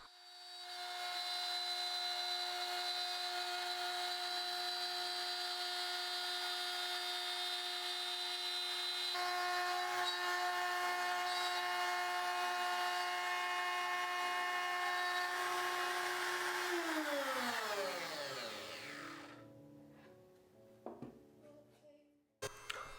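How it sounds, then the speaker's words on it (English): A power tool makes a slow plunge cut into a walnut piece, its high steady whine holding loud and constant for about seventeen seconds before spinning down and fading out. "This plunge cut was pretty slow and I took my time with it, making sure not to go too far to the end of the piece."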